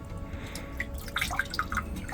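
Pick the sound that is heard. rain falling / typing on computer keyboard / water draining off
water draining off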